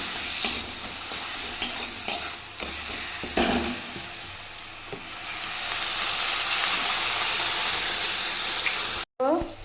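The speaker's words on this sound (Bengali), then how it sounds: "এবার আমি এর মধ্যে কিছুটা পরিমাণ জল ঢেলে দেবো" Water poured into frying red masala in a pan for a Bengali snakehead fish curry, stirring and sizzling first, then a steady louder hiss and bubbling as the water hits the hot spices, with a brief gap near the end.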